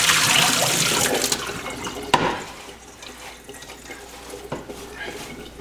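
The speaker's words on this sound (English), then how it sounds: "That all the water you're gonna pour off?" Water poured off cooked apples into a kitchen sink while making red hot cinnamon spiced apples: a loud rushing splash for about a second, fading into quieter trickling with a sharp clink.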